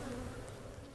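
Honey bees buzzing around backyard hives, a continuous close droning hum that holds steady through the brief moment, with no voices.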